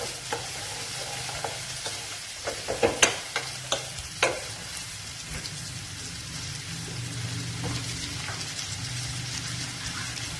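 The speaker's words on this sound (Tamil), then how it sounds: "வெங்காயம் நல்லா வதங்கணும்" Onions sautéing in a pan for a hotel-style channa masala, a steady close sizzle broken by a cluster of sharp spatula scrapes and clinks against the pan, with no talking.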